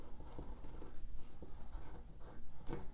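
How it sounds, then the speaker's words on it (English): A pen or marker traces around a pattern piece on interfacing, producing a soft, continuous scratchy rubbing with small irregular strokes, close and quiet. "I will carefully trace around so I can see where I'm cutting"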